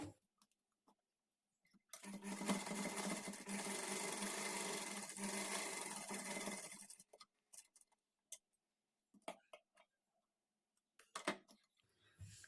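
Sewing machine stitching blouse sleeves, a quiet continuous whirring run of about five seconds, framed by scattered soft clicks and handling taps before and after.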